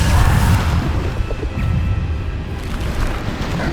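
Bombarda spell blasts in Hogwarts Legacy on PS5, a loud, dense booming rumble that rolls on steadily without a break, heavy in the low end with no voices.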